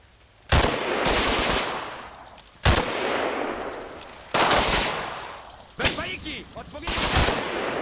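Rifle and machine-gun fire in the World War II video game Combat Mission Battle for Normandy, four loud bursts of gunfire with echoing tails, each lasting about a second and spaced a second or two apart.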